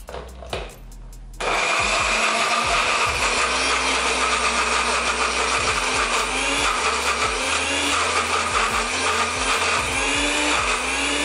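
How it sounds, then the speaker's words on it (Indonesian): An electric blender purees a spice paste with oil for a base seasoning. It starts after a short rattle and then runs as a loud, steady roaring whir for about ten seconds, alone. "Ini kita blender."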